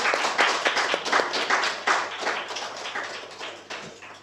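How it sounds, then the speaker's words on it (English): A small round of applause at the close of a digital rights and inclusion forum, quick overlapping claps from a modest group at moderate volume, thinning out toward the end. "If the audience, we could just give them a round of applause as we close."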